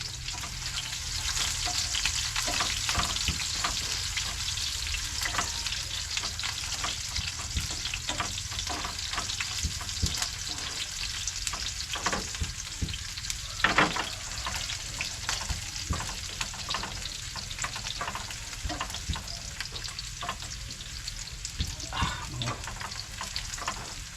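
Ginger sautéing in a pan for chicken adobo gives a steady, bright hiss of frying oil, with scattered clinks and scrapes of stirring throughout, close and continuous with no talking.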